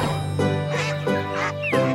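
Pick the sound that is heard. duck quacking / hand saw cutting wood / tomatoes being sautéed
duck quacking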